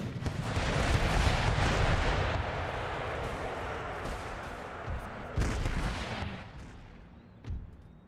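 Artillery gun team firing in the Empire Total War battle game, with rapid booming cannon blasts layered over a dense roar of musketry and battle noise, loud throughout and easing slightly toward the end, with two sharper reports near the close.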